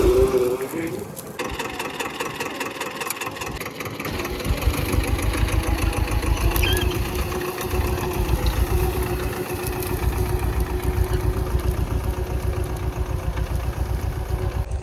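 A Swaraj 724 tractor engine idles steadily close by, a continuous chugging mechanical rumble with light clatter that holds its level for the full stretch, with people talking over it.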